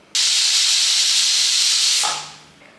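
A loud, sharp hiss of steam bursts from a pressure cooker whistle, holds steady for about two seconds, then tapers off quickly into a faint lingering hiss.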